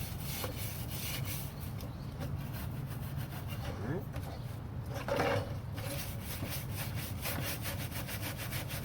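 Stiff brush scrubbing the bleached wood of a 1977 Boston Whaler 21 Outrage during restoration, a steady close rasping rub in quick repeated strokes that runs throughout, with a brief louder scrape midway.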